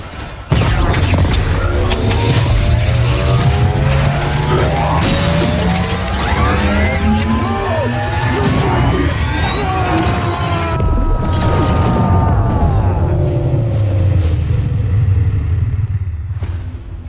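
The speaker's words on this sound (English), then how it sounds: "That blast killed the flow of energy feeding the industry tower." Explosion and crumbling destruction in the Crackdown 3 game, a sharp blast onset followed by long rumbling, crashing debris and shattering layered over a dense, loud, continuous roar with no talk.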